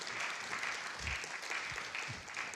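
Audience at a tech conference on cloud design patterns applauding at the end of a talk, a steady dense patter of clapping from a roomful of people.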